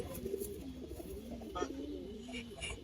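A large pigeon coos close by in soft, low, rolling calls repeated over a few seconds against a quiet indoor background.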